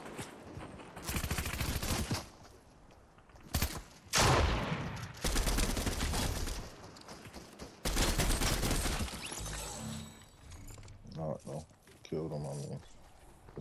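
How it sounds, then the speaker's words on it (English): Fortnite gunfire in a duos match comes in several loud bursts of rapid shots separated by short gaps, with sharper scattered hits toward the end and some vocal sounds mixed in. "Somebody shooting at me"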